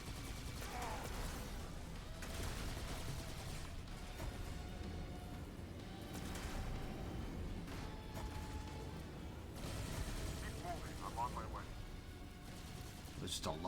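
Gunfire in the video game Halo 2: Anniversary, repeated bursts of shots and explosions layered in a dense, continuous firefight with whooshing effects, fairly quiet overall.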